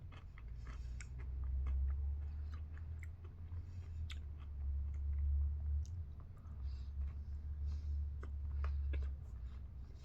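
A crunchy Hershey's waffle cone bar is chewed close to the microphone, with repeated crisp crunches over a low, steady chewing sound and no talking.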